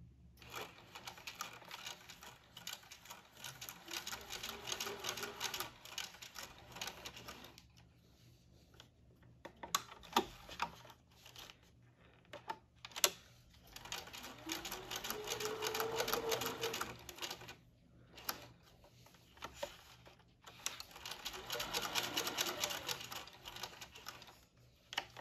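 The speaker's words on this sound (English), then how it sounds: "we're doing a regular straight stitch right now" A sewing machine edge-stitches around an elastic waistband in bursts of rapid, even straight-stitch clatter, pausing briefly between runs; close and fairly quiet.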